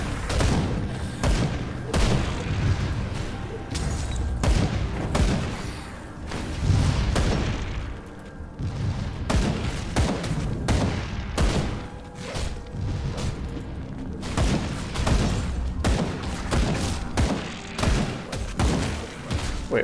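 Gunfire and heavy impacts while shooting an enemy in the action role-playing game Grim Dawn, a dense run of loud booming shots and thuds that keeps going throughout without pause.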